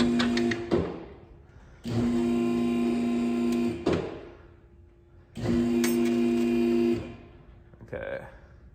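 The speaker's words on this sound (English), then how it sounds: "So I'm gonna go ahead and raise the vehicle to allow that coil spring to start to get tension off of it." Electric vehicle lift raising a 1991 Pontiac Firebird in a garage during a suspension job, its motor whining steadily in two long bursts of about two seconds each, with clunks and short pauses between them.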